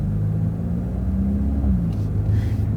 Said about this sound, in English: now it's just in D, and then it more or less purrs like a kitten